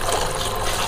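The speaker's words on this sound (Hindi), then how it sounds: "पानी डाल लेते हैं।" Water pours steadily into a container for a homemade toy fire boat, a brief close splashing gush with no talk.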